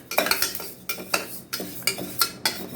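Moong dal dry roasted without oil or ghee in a pan, stirred with a utensil: repeated scraping and rattling strokes of lentils against metal, close and moderately loud, irregular rhythm with faint sizzle.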